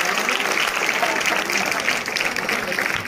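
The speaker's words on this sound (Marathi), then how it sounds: "त्या विद्यार्थ्याचं जरा आपण टाळ्या वाजवून अभिनंदन करूया." Students and teachers at a school science exhibition clap to congratulate a student, with continuous applause heard close and talking going on over it.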